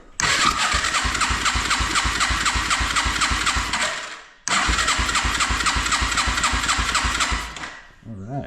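A 1987 Yamaha TrailWay 200 motorcycle engine cranking without starting, two long loud bursts of rapid rhythmic churning, each about four seconds, separated by a brief pause, close up and alone.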